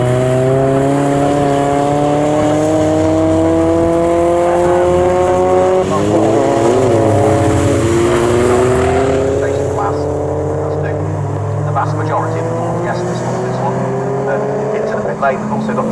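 Race cars in a BRSCC Clubsport Trophy race at Snetterton circuit, including a Nissan, roar as they slow into the pit lane, engine notes sweeping and shifting, with a commentator talking over the steady, loud engine noise throughout.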